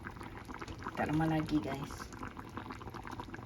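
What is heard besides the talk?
sour spicy red fish with eggplant boiling in a pot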